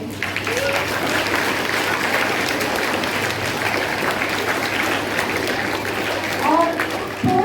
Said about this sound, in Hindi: huge round of applause to all the participants